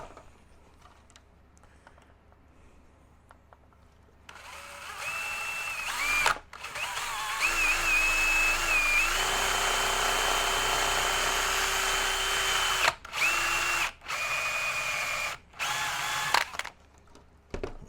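Handheld power drill boring holes into an HPI Racing Venture radio-controlled model chassis, a loud close whine that spins up, holds steady, then stops and restarts in several short bursts with brief pauses between them.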